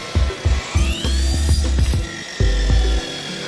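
Factory machinery trims wood into standard lengths, with repeated loud cutting passes and mechanical clunks in an uneven rhythm, high whines sweeping above a droning motor, heard close.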